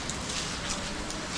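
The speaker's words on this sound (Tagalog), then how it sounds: "Ayan o, maulan." Steady rain falls on a rainy day in the Philippines after a heavy afternoon downpour, a continuous close hiss of drops with no talk.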